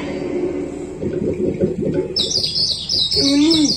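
During a Marathi comedy folk play, a person whistles and squeaks high, rapid chirps in imitation of a sparrow, following some brief talking at the start.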